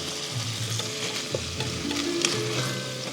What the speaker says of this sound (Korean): 센 불로 볶아주면 돼.